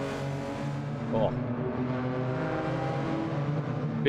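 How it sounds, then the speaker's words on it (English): Induction roar from a car engine in Gran Turismo 7, a steady harmonic drone with a brief rising rev swell midway, loud and continuous throughout. "Bit of induction roar there,"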